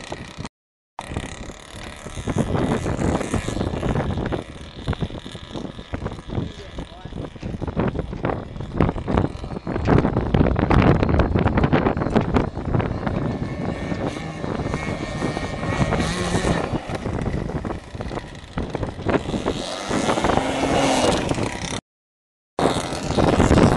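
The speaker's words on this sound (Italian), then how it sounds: "C'è vento, c'è vento" Strong sea wind batters the microphone on a boat out fishing for barracuda, a loud continuous gusty roar and rumble with a couple of brief dropouts.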